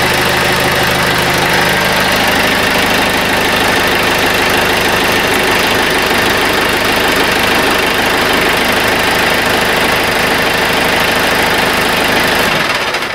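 A John Deere 110 TLB tractor engine idles loudly and close by in a steady, even rumble with a rough knocking texture, continuing unbroken until it drops off at the very end, with no talking.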